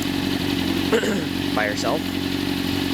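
A 2003 Honda CBR600RR with a Hindle exhaust idles in a low, steady engine drone beneath a voice.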